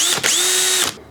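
A power drill with a woodworking bit whines at a steady pitch, dips briefly as the bit bites into the wood, then spins on loudly for most of a second before winding down.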